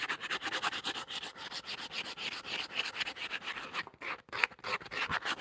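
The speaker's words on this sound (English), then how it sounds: "I want to sand this inside too" The inside of a handmade leather sandal is sanded by hand with quick back-and-forth rasping strokes, steady and close for several seconds with a brief pause near the end.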